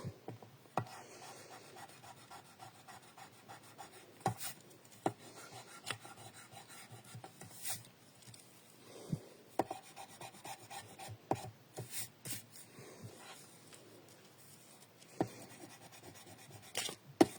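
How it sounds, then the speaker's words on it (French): An eraser rubs out pencil lines on paper, giving quiet, uneven scrubbing and scratching strokes with small taps scattered through a long, soft stretch. "on va gommer le crayon"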